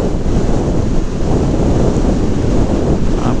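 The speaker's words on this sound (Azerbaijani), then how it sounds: "Biraz da havada çox külək var." Strong outdoor wind batters the microphone in loud, continuous low rumbling buffets on a dry, gusty day, steady throughout with no voices.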